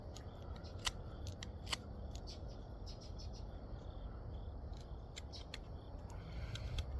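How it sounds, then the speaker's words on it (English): Edges of a carved wooden page holder being trimmed, a series of sharp, irregular snipping clicks close by over quiet background hiss, no speech. "Trim down these edges now."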